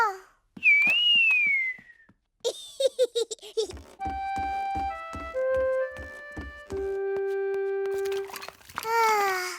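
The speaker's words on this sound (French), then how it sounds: "Georges sait aussi siffler." A child whistles a few clear tones in a simple, uneven tune in a Peppa Pig cartoon, mixed with bursts of babbling and giggling and a high squeal near the start.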